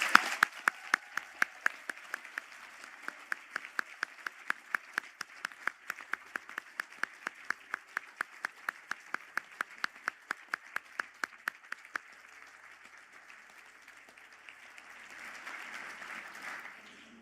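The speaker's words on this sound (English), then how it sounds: "for a round of applause" Graduation conferring ceremony applause in a large hall, starting as distinct, evenly spaced claps that carry on steadily for about twelve seconds before thinning out, followed by a faint murmur.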